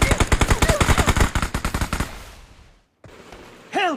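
Rapid automatic gunfire rings out in BGMI on the Livik map, a fast burst of about two dozen loud, evenly spaced shots that thins and fades, then brief game sound effects follow.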